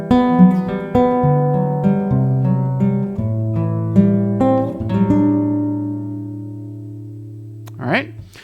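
An acoustic guitar fingerpicks the first three bars of a piece with rolling picked notes that ring out and fade. A short vocal sound comes at the very end.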